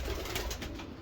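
Racing pigeons from a loft of 49 birds coo, with a low soft burbling from the flock and no talk, at moderate level.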